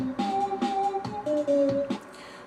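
A short music loop built in the Pocketband app with altered sounds: a tonal synth melody over steady percussive hits, moderately loud and alone, ending in a quieter tail.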